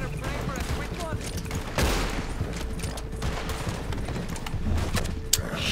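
Gunfire in the video game Red Dead Redemption 2, with a sharp burst of shots mixed into a dense, busy game soundscape and a voice talking over it.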